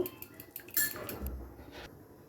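Eggs and salt are beaten in a bowl, quick metal-on-bowl clinks and taps in a short rapid burst followed by a few softer scrapes, close and alone.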